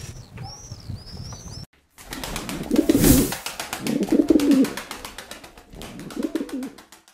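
Mardin pigeons in a coop give low, rolling coos in several bouts, with wing flaps and a brief chirp or two, close and clear; no one speaks.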